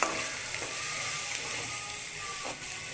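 Chilli and onion frying in a pan until reddish for egg bhurji, with no tomato added: a continuous crackling sizzle with light scraping, close and fairly even throughout the short stretch.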